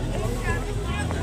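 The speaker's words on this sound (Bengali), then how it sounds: "দেখো লঞ্চ আসছে।" A launch boat's engine drones steadily on the Ganges near the Naihati temple bank, a constant low rumble under nearby talk and crowd murmur.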